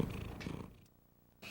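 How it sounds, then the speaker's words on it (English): A cat purrs softly up close, a low rumbling rhythm that trails off briefly before resuming. "he's purring"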